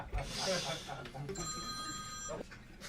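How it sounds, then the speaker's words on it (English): A mobile phone rings in a comedy show audience, a steady electronic tone repeating for about a second, with crowd noise and voices around it. "if your phone makes one more noise, will you give me 20 bucks?"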